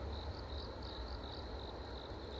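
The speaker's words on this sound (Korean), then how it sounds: "귀뚜라미 풀벌레 소리가 가득합니다" Crickets chirp in a steady, pulsing trill over a faint low background hum, with no one speaking.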